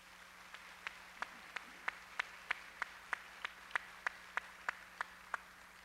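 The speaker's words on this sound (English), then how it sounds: "I'd like to ask you to join me in another round of applause." A single person claps slowly and evenly, about three claps per second in a steady run, crisp and fairly close against a quiet hum, in the audience at a charter schools conference in Milwaukee.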